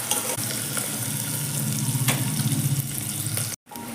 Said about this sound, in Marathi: कांदा घालून चांगलं हलवून घ्यायचं कांदा हलका गोल्डन होईपर्यंत भाजायचा